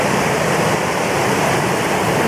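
Doby Creek rushes in a dense, steady, close roar of flowing water, loud and unbroken, with no voices.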